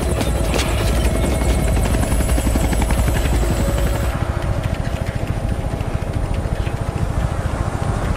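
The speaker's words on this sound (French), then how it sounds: "Nous avons un vol non identifié d'hélicoptère en mouvement vers l'est, dans la zone cible" A helicopter's steady rotor thump and engine drone fill the scene continuously, loud and close, with a slight shift in tone midway.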